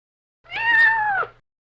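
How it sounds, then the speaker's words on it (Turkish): A single drawn-out cat meow, clear and close, rising slightly then dropping at the end. "Bu bir kedi."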